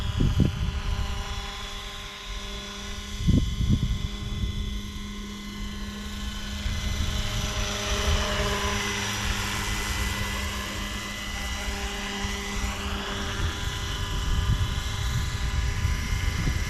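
A small Hughes MD500-style RC model helicopter flying outdoors whines steadily with a constant buzzing rotor drone, holding a near, even pitch throughout with faint wind rustle underneath.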